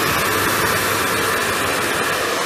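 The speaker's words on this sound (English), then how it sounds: "blow dryer that's got some good wattage" A high-wattage blow dryer roars steadily and loudly at close range while drying medium-length hair with a small round brush, a continuous breathy rush with no breaks.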